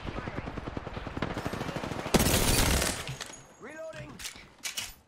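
Rapid automatic gunfire in Apex Legends, aimed at a Gibraltar gun shield, with a dense burst of shots, then a sharp crack and shattering impact, followed by electronic game effects and a few more shots.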